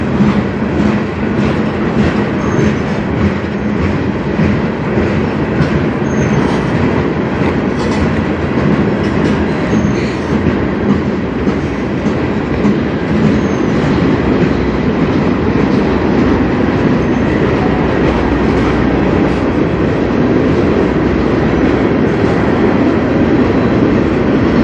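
CN freight train rolling past on the Strathroy Subdivision, a loud, steady rumble with rhythmic clickety-clack of wheels and wagons running continuously throughout, very close to the listener.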